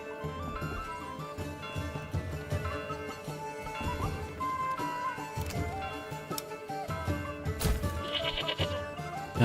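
Goats bleating in the medieval city-building game Manor Lords, several calls rising over a dense layer of game music and ambient sound, fairly prominent throughout.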